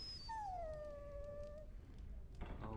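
In Dragon Age Origins, a dog lets out a single drawn-out whimpering whine that slides gently downward, faint over a low background rumble, with a short clatter after it.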